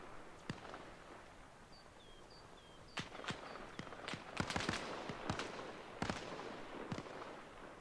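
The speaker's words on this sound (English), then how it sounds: "And I hear BRDM shooting" Distant gunfire from a BRDM armored car in a military video game: scattered sharp cracks and short bursts spread over several seconds, faint and far off, with no talking.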